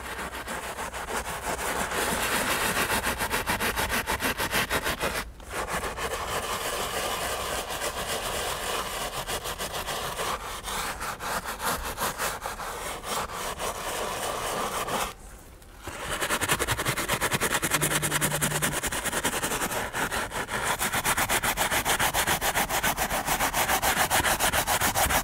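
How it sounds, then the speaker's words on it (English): A brush scrubs leather with Colourlock mild cleaner, giving a loud, continuous, rhythmic scratchy rubbing that pauses briefly twice. "Just want to reapply my brush."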